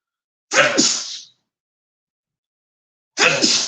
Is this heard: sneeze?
yes